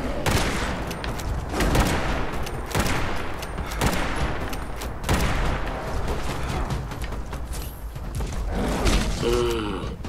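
Dense, continuous video-game gunfire from Fallout 76 fills the whole stretch, with sustained bursts of rapid shots and heavy impacts, loud and close, a voice briefly audible near the end.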